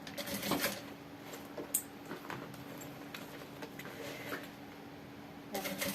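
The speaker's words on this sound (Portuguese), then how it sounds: "deita ele e vem fazendo a costurinha de segurança" Sewing machine stitching a safety seam along the edge of a backpack, quiet bursts of rapid mechanical ticking with short pauses between runs, near and faint.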